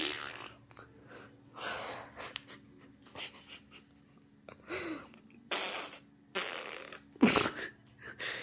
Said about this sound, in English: why are you farting?